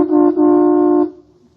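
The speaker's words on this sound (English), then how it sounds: "Honk the horn, Margaret." A 1950s car's horn sounded at a closed station, one short honk followed by a longer sustained blast, loud and near, then fading.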